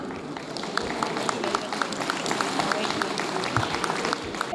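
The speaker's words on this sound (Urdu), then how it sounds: "ان کے لیے تالیاں" Applause and clapping from a crowd at a lawyers' protest rally, a steady dense patter of many hands lasting throughout, loud and close with some voices mixed in.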